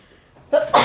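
A single close, sharp sneeze with a short breathy lead-in.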